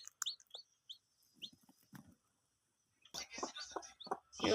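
A hen clucks in short, close calls over eggs that are starting to hatch. Bursts of speech and other rustling noises follow in the second half.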